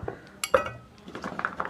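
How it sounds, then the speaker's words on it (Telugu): Chopped carrots go into a mixer grinder jar, making a few sharp clinks and light clatters at close range, with short quiet gaps between them and no speech. "ఈ మిక్సీలో వేస్తున్నాను."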